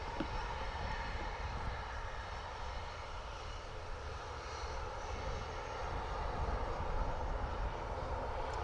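Ryanair airliner at Dublin Airport, a steady broadband engine roar held at fairly constant loudness throughout, with no talk over it.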